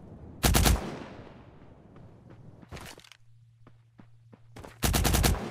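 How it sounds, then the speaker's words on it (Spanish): Video game gunfire in Cyber Hunter, with three loud close bursts of rapid automatic shots separated by quieter gaps holding faint single pops and a low hum. "Y ya me están disparando."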